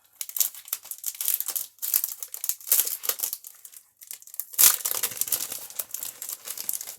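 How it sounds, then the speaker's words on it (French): Crinkly plastic packaging rustles and tears as stamping accessories from a craft haul are unwrapped, loud and close, in repeated crackling bursts with a brief pause midway. "je peux vous le déballer pour que vous voyez mieux"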